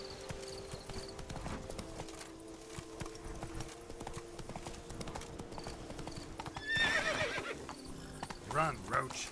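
Roach the horse gallops in The Witcher 3, hooves clip-clopping in a steady beat over game ambience, then a whinny rings out near the end along with a brief burst of louder movement.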